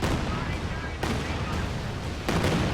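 A Land Mattress rocket artillery barrage in the strategy game Company of Heroes 2 keeps up a dense, loud rumble of impacts and blasts, with sharper hits standing out roughly every second.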